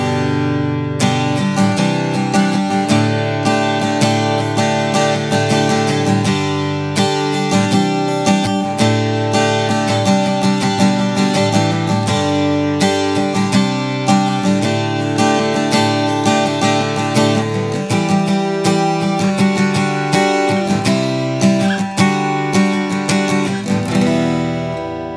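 A freshly tuned Cort AD acoustic guitar is strummed in steady chords, bright and close, ringing continuously for about twenty-five seconds with no talking.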